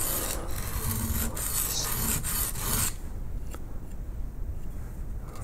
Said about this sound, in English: So this is an oil stone, we need lots of oil.